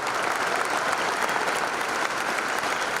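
Audience applause at a political event, a sustained, even burst of many people clapping, moderately loud and unbroken, with no speech on top.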